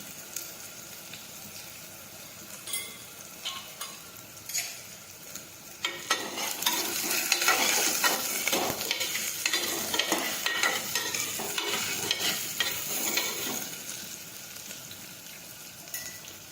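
Ridge gourd and potatoes hit a pan of hot oil tempered with mustard seeds and asafoetida, a low simmer that swells into a loud, dense sizzle with stirring clatter, no talk.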